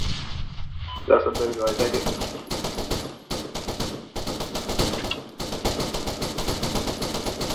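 Rapid bursts of airsoft gunfire crackle in dense volleys during an outdoor skirmish game, with short pauses between strings of shots and voices talking over the action.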